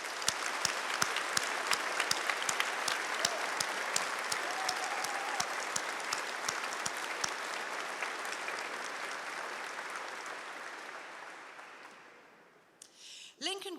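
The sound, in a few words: audience applause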